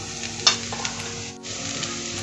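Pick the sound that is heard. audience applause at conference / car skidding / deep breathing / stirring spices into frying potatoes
stirring spices into frying potatoes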